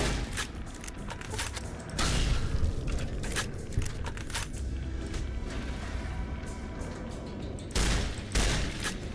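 Shotgun blasts at a gecko in Fallout New Vegas, loud booming shots with dense bursts of impact and mechanism noise over busy game sound, several heavy reports spread across the span.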